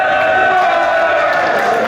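An audience applauds at a ceremony of Les Fins Palais Eloysiens in Auvergne, with dense, steady clapping and a bit of crowd noise lasting the whole moment without a break.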